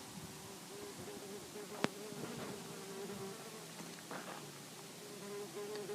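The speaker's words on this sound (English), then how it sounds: "The bees like this weather though. There's plenty of them." A low buzzing hum of bees drifts steadily through the scene, with one sharp click partway through and faint outdoor ambience.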